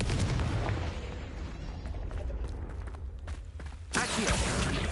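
The Confringo fire-blast spell from Hogwarts Legacy erupts in a dense, booming burst of explosive noise, rumbling and crackling for several seconds with a second loud blast near the end, with no talk over it.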